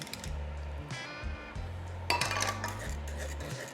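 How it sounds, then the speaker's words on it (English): Barbecue sauce and simple syrup glaze mixed in a container, a close run of rhythmic clinking and scraping as a utensil works around the bowl, with steady low whirring beneath, no talking. "Give that a good mix."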